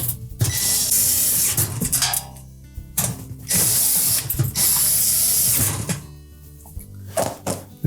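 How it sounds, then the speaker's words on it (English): A ratchet tightens the retaining screws on a GE range in quick, clicking bursts with thunks between, close and fairly loud, with no talk. "Then we'll reinstall the retaining screws."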